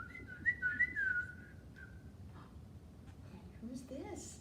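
A person whistles a short run of rising and falling chirps imitating a cardinal, clear and close, followed by quiet room noise and faint rustling.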